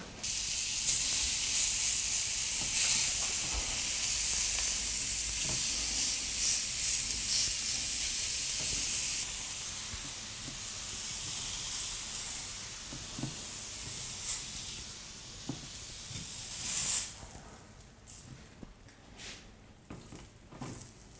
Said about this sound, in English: So grill it a couple of minutes on either side until it's done.